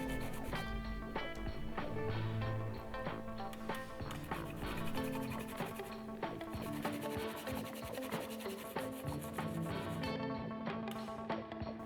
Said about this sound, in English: I'm grating a 1-inch piece of ginger, 1 clove of garlic, and about 1/8 of an onion